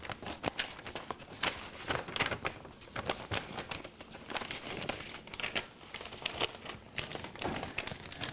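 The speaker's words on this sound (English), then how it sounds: "this illustrious piece of paper" A sheet of paper is handled continuously up close, giving steady crinkling and rustling with frequent crisp crackles and no voices over it.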